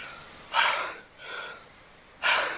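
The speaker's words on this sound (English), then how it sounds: "He's breathing." A person takes sharp, audible gasping breaths, three distinct rasping inhales and exhales close up, with no talking.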